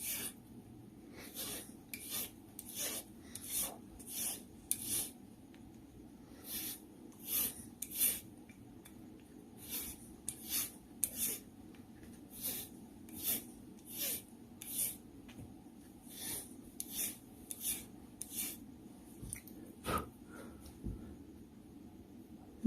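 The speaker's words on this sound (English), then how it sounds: "So next step is we're gonna start filing nice, file straight like that," A hand file rasps on jewelry carving wax in steady, evenly spaced close strokes, about two per second, each a soft hiss, with a few pauses between runs.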